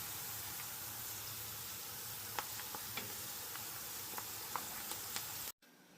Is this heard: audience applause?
no